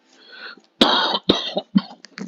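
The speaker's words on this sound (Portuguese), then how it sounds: "Tô espirrando menos, mas tossindo mais." A person with a cold gives several harsh, close coughs and throat clearings in quick succession, each short and forceful, separated by brief silences.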